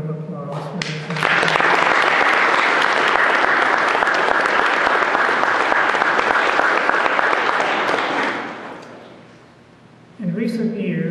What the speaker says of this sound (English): Let's express our thanks by giving this team a good round of applause for this.